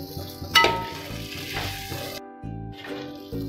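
Chicken frying in butter in a pan, a steady close sizzle with brief stirring scrapes and a sharp clink near the start, no voices.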